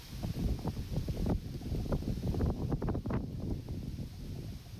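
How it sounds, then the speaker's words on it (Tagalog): Strong gusts of outdoor wind buffet the microphone in uneven, rumbling bursts while a paper kite's wing is being measured and tied, with no one speaking. "Talagang malakas yung hangin dito sa amin ngayon mga kalitar."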